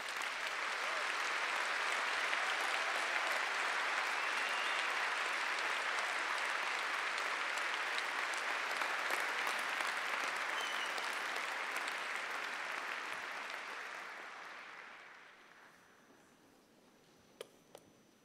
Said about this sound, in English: Please join me in a round of applause to the graduate class